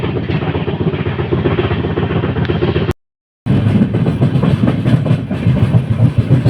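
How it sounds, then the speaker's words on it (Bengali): Intercity Express train running flat out at 110 on the way to Guwahati, a loud continuous rumble and rattle of wheels with wind roar, briefly cut to silence midway, no talk. "ট্রেন জাস্ট টানছে ফ্ল্যাট 110"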